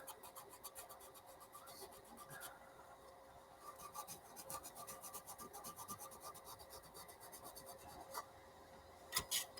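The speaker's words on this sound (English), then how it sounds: "If you're doing a big area, then you want something flat so that you don't sand in the finger lines, which will be low spots." Hand sanding with a flat block across a broad surface on a beginner's build, a steady close rasping scrape that continues in even strokes for several seconds, with no speech.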